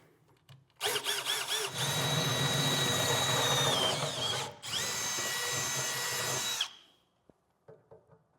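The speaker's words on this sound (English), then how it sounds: "we'll get our larger drill bit and drill it out the rest of the way" A power drill bores through a 2025 truck bed while enlarging a pilot hole for a Curt underbed gooseneck hitch, whining loudly and steadily for several seconds, briefly dipping mid-cut, then stopping, with faint shop clatter after.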